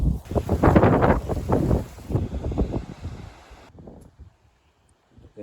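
Wind blowing outdoors and buffeting the microphone in steady rumbling gusts, loudest at first and then easing off into near quiet before a last short gust.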